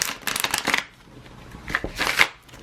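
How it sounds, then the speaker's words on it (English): Tarot cards are shuffled by hand in two separate bursts of rapid riffling and flicking, close and fairly loud, with a short quiet pause between them. "Are they shuffled enough for you?"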